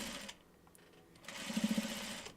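A home sewing machine stitching half square triangles for a quilt, two short bursts of rapid mechanical whirring separated by a brief pause, close and fairly quiet, with no talking.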